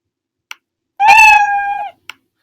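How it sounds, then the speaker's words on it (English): A single cartoon-style cat meow sound effect in a coding app, about a second long and clear, framed by two soft clicks before and after. "If I click this, I will hear a meowing sound."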